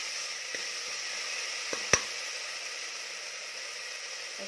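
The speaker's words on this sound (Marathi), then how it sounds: "दोन चमचा आलं लसूण पेस्ट पेस्ट घालून हे छान परतून घ्यायचं आहे" Mutton, about a kilogram, sautéing in a pan with ginger garlic paste, a soft steady sizzle and hiss with a couple of faint clinks of a spoon and one sharp tap near the middle.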